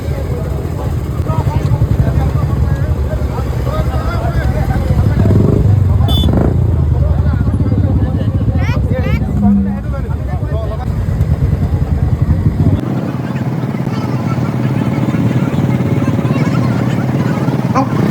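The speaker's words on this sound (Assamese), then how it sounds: "এয়া বাইকসমূহ যাবলৈ আৰম্ভ কৰিছে, ধুনীয়াকৈ শাৰী পাতি এখন এখনকৈ আগবাঢ়ি গৈ আছে।" A line of motorcycles pulls away one after another at the start of a rally, a continuous loud engine drone with rising revs, mixed with crowd noise and people talking nearby.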